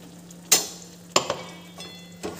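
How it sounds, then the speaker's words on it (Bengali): Fried spice paste for a paneer dish is stirred in a pan, with a few sharp spoon scrapes and knocks spaced out over a faint, steady sizzle. "এবার বেশ ভালো করে একটু নেড়ে চেড়ে দেবো"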